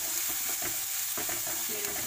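Chicken manchurian frying with salt in a pan, with a dense, steady sizzle and quick repeated spatula stirring strokes.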